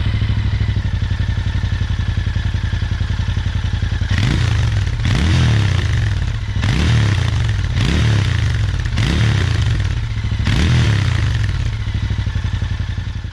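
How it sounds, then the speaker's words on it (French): A Royal Enfield Interceptor motorcycle engine with stock exhausts idles with a deep, steady burble, then revs up and drops back several times in a regular rhythm, loud and close. "La sonorité du moteur est également très bonne, même avec les échappements d'origine."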